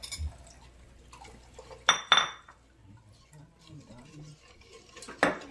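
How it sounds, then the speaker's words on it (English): Sugar is stirred into sorrel punch in a pot without heat, a spoon clinking sharply against the sides in a few distinct, separated knocks amid quiet scraping and faint background voices. "So go ahead, keep adding the sugar and stirring."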